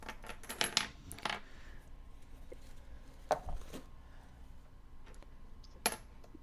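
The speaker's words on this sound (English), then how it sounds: "If you just hear jingling, it's Mariel's, hands in her pockets playing with coins" Faint coins jingle and drop in scattered bursts, small metallic clinks trickling out with quiet gaps between them.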